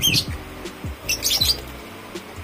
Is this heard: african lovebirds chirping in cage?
yes